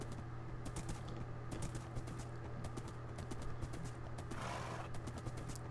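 Steady, rhythmic horse hoof clip-clops from a horse ridden in the Minecraft video game, faint and continuous with no talking over them.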